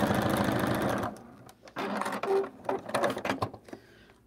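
A home sewing machine top-stitches a scrappy quilt-as-you-go zipper pouch. A steady, fast mechanical whir runs for about a second, then shorter stop-start bursts of stitching follow, close and clear, with no talking.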